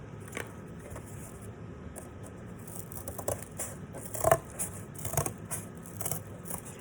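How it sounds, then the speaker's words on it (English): Scissors cut through thick cardboard in a quiet series of irregular crunching snips and rustles, close up, with no voices. "I am cutting through kind of thick cardboard"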